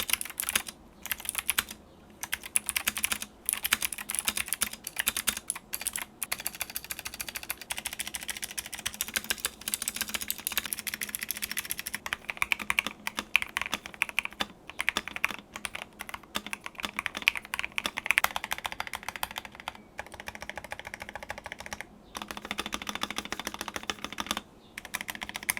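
Rapid, continuous typing on an Epomaker TH66 keyboard with Gateron blue clicky switches, with sharp, bright clicks in quick irregular bursts, close up and without voices.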